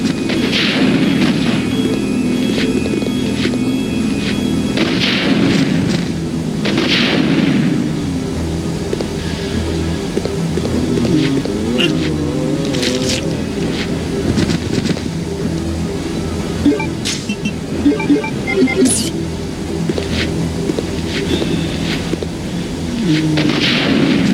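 Booming shotgun blasts and heavy impacts aimed at zombies in the Resident Evil: Code Veronica X video game, several loud reports spaced through a dense, rumbling backdrop of game noise.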